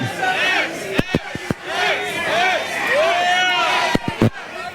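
Arena crowd noise from a WWE WrestleMania 40 video game match, a steady roar of cheers with sharp impact thuds and ring slams cutting through at intervals, while a commentator's voice runs over it.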